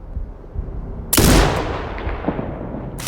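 A single loud sniper rifle shot from Sniper Ghost Warrior Contracts 2 cracks sharply after a quiet moment, followed by a long decaying echo tail, with another sharp shot starting right at the end.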